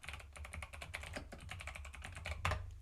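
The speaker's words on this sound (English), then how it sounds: "You can hear me typing frantically" Rapid, frantic typing on a computer keyboard during a live stream about Commodore 64 homebrew and the MEGA65, a dense, continuous clatter of close key presses that carries on throughout without any talk.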